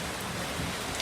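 Rain falling on a rainy day, a steady, even hiss of drops that holds at one level for the whole brief moment.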